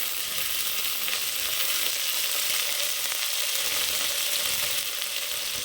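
Cauliflower and carrot pieces fry together in a pan for a methi pulao, giving a steady, even sizzle that holds at one level throughout, close and unbroken, with no talking.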